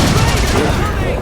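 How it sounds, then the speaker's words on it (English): Rapid heavy weapon fire and explosions from a railgun battle against Phantom dropships in the Halo 4 campaign, loud and continuous with dense rumbling bursts and a voice briefly audible in the mix. "Target those phantoms for the railgun to shoot down."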